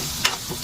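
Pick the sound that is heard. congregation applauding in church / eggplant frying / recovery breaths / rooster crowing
eggplant frying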